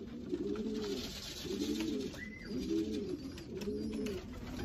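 Racing pigeons coo in a steady repeating rhythm, four soft rounded phrases rolling one after another, close by, with a brief higher whistle in the middle and a faint outdoor hiss behind.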